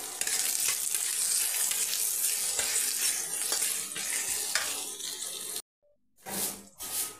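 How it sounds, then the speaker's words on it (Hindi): Onions with salt frying in a pan for a Bengali ghugni, a steady close sizzle and crackle with occasional stirring scrapes, then a sudden silence followed by a short burst of renewed sizzling. "प्याज, नमक, प्याज फ्राई होने के लिए"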